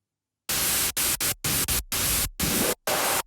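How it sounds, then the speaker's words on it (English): A synthesizer oscillator switched to a noise setting plays a rhythmic melody pattern of unpitched hissing bursts with the lows cut, loud and close, with short gaps between the hits. "What I do is I turn oscillator 1 onto this noise setting"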